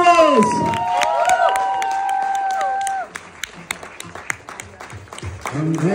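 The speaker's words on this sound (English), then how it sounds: "Please, a big round of applause." An audience at a school prize ceremony claps for an award winner. Scattered sharp claps run throughout, over a tonal voice or whistle in the first half and a few voices near the end.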